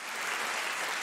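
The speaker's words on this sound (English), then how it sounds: "You're not giving it enough time for them to clap." A crowd claps in a mobile video game, a short, dense burst of applause at an even level with no voices over it.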